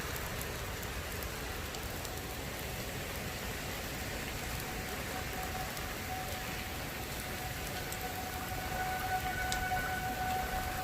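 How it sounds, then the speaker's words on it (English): Steady rain pours throughout during a tropical storm while a faint tornado siren holds a wavering tone in the background, growing a little clearer toward the end. "our tornado sirens have continued to go off"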